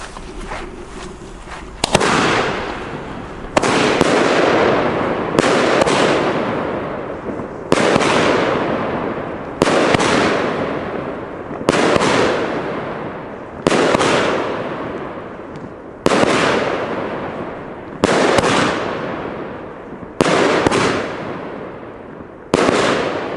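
An Argento Lavanda 13-shot firework cake fires a long series of loud booming shots at a steady pace of roughly one every two seconds, each bang trailing off in a crackling fade.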